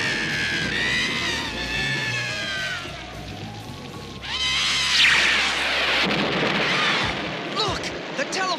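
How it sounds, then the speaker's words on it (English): Rumbling thunder rolls through a storm, with a loud crash midway and dramatic noise layered over it, with voices in the background. "Now there's thunder and lightning."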